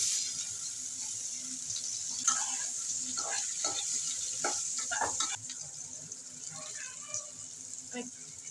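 Raw green banana goes into a hot pan of oil and tempering spices while cooking a rohu-style bata fish curry, giving a steady sizzle with scattered stirring clatters throughout.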